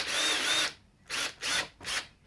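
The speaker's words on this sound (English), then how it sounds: "Be extra careful when you're drilling this sort of stuff too, because it'll pick up the pile in the carpet." Power drill whirring through the carpet pile inside a 1981 Mitsubishi Sigma, one long close burst followed by three short, loud pulses with brief pauses between them.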